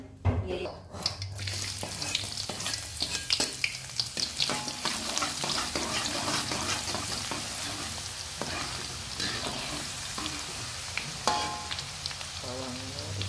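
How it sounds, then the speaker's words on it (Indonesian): Shallots fry in hot oil in a pan as a stir-fry breakfast dish begins, a loud continuous sizzle and crackle with frequent clinks and scrapes of a utensil against the pan. "Bawangnya digoreng."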